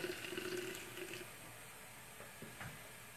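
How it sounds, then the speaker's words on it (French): Very hot water poured into a teapot to rinse and brew mint tea, a steady close pouring and trickling wash that fades after about a second, followed by a few faint clinks in a quiet room. "Maintenant, j'ajoute l'eau très chaude."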